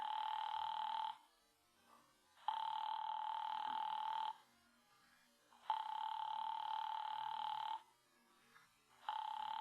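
An old-fashioned telephone rings in a vintage radio drama, three long bright rings and the start of a fourth, separated by quiet pauses, clear and close with no talk.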